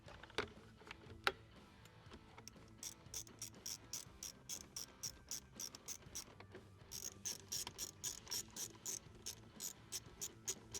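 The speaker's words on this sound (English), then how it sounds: "Now we can reinstall the 3 T15 Torx screws" A ratchet drives T15 Torx screws into a GM truck dash, clicking in quick, regular bursts of sharp pawl ticks, faint and close, with brief pauses between strokes.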